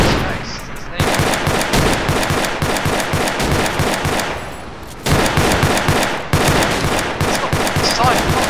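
AK rifle fire in the Roblox game, rapid automatic bursts in long continuous strings with brief pauses, loud and close.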